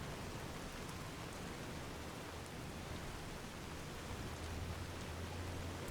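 Steady rain falling in Fallout New Vegas, a soft, even hiss of drops holding at a constant level throughout with no voices.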